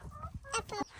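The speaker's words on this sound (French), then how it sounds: "Du coup on se retrouve avec une poule." A hen clucking in a van, a few short agitated clucks up close, quiet and mixed with low voices.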